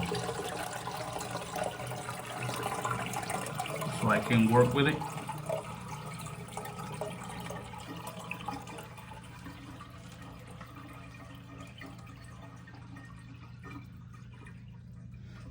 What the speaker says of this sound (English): then I'm gonna flush the toilet